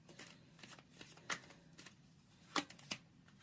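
Tarot cards being shuffled and drawn during a reading, a run of soft papery riffles and flicks with a few sharper snaps standing out, close and quiet with no talking.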